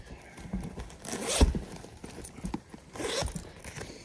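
A zipper on a leather designer bag is pulled in a couple of short rasping strokes, close up, with light handling scrapes in between.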